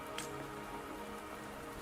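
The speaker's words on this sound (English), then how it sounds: "the rain won't last much longer" Steady rain pours in the video game Wuthering Waves, a dense, even hiss of drops on surfaces that holds without pause from start to finish.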